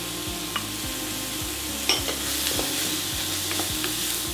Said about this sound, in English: We're gonna add a bit of olive oil to our pot. We're gonna add some onions, a bit of carrot and celery,